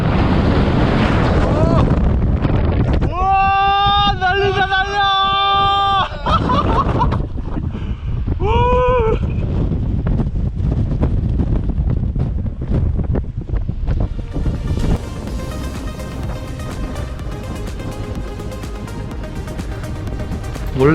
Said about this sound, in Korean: 와, 바람 엄청 세게 붑니다 지금.